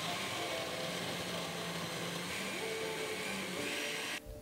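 A kitchen blender runs steadily while blending tahini sauce, a loud continuous whirring drone that holds for about four seconds and then cuts off abruptly.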